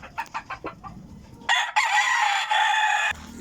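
Golden sweater rooster crowing in a backyard, a loud, close, sustained crow that follows a short run of clucking.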